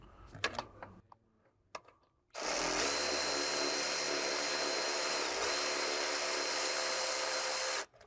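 Power tool snugging an alternator bolt on a Porsche 987 Cayman, a steady loud whir running about five seconds after a few light clicks and taps, close by with no talking.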